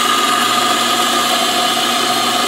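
Mazzer coffee grinder running with a throaty motor tone: a loud, continuous, steady grind close by with no pauses.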